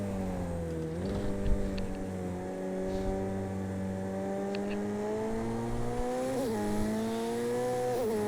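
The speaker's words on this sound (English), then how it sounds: "Then hard on the power to accelerate down the start-finish straight" A road car in Project CARS 2 accelerates hard down a start-finish straight, its engine note climbing steadily through the gears with brief dips at shifts, loud and continuous with a faint tire hiss beneath.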